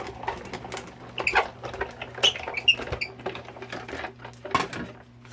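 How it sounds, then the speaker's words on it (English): A Sizzix die-cutting machine runs paper through with a die, shim, embossing mat and clear plate, giving soft mechanical clicks, pops and light rattling taps at close range over a low steady hum. "this is the Sizzix mat to emboss it. The last clear plate, and run it back through."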